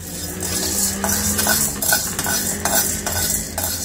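Maize grains dry roasting in a pan without oil over medium gas, stirred continuously, giving a steady scraping rattle with repeated clinking strokes of the spoon against the pan, close and alone.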